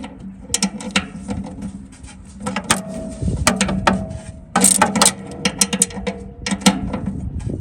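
Bolts are tightened during assembly of a Char-Griller Grand Champ XD offset smoker, with bursts of ratcheting clicks and metallic rattles at close range and no talking.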